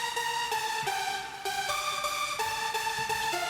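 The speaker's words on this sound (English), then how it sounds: "So this lead is called Angel 1. It's from Nexus Factory presets, I believe." A bright synth lead from the Nexus factory preset Angel 1 plays a stepping melody of sustained, harmonically rich notes for a progressive house track, loud and alone.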